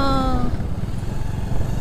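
Motorcycle on a mountain road rumbling steadily at close range, its low engine drone continuous throughout, with a brief tonal whine early on.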